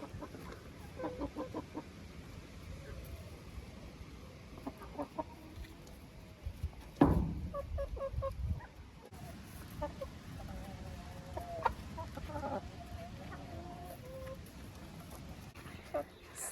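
Hens clucking in a backyard dacha chicken coop while scratching in sand, soft clucks and calls recurring across the clip with a louder burst midway, mixed with nearby movement and someone talking in between.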